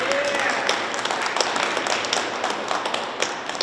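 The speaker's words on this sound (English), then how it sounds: "I want you to give him a big round of applause." Dense applause from a crowd at a Togo flag-raising ceremony, honouring Vice President Sama Jamba, a steady wash of many hands clapping with some sharper claps standing out, and a brief voice at the start.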